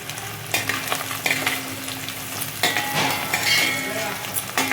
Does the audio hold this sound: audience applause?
no